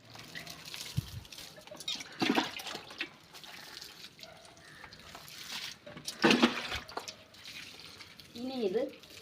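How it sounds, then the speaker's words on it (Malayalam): Water sprinkled by hand over freshly planted ginger in a farm plot gives a few soft splashing bursts and drips, with a voice talking throughout. "നമുക്കിതിലോട്ട് വെള്ളം തളിച്ച് കൊടുക്കാം"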